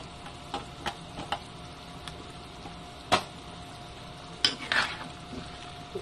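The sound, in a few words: stirring chayote into pork and chicken tinola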